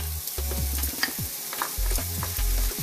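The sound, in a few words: bacon and onions frying in a pan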